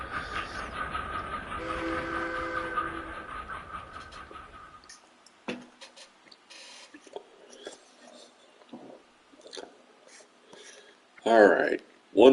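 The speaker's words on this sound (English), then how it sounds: "Get that choo-choo train going" A stadium train horn sounds at the Astros ballpark in a baseball video game after a hit, heard as a steady horn with rumbling train-like noise for several seconds before fading, followed by scattered crowd and game sounds.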